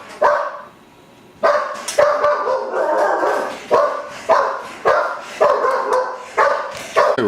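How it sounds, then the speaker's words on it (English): A single house dog barking at passersby in front of the home, loud and close, with one sharp bark, a brief pause, then a run of repeated barks and yips in an uneven rhythm. "He barks at everything that walks by the front of the house."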